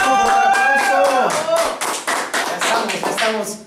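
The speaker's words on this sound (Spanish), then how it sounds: "¡Fuerte el aplauso, fuerte el aplauso!" A television variety show audience claps and taps in bursts, loud and close, the rhythm breaking into separate pulses toward the end.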